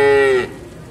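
A single loud, close moo, likely from Pegon or Limousin-cross cattle at an Indonesian calf farm, lasting under half a second and then trailing into quiet background.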